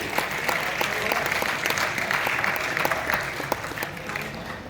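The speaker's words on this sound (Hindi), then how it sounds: "जोरदार तालियां डॉक्टर अंकुश शर्मा जी के।" Dense audience applause fills a theatre during a university drama event, a steady wash of many hands clapping at close range that holds throughout without pause.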